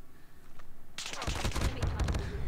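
Gunfire from the Call of Duty Mobile video game, a rapid automatic burst that starts about a second in and runs to the end over quieter game sound.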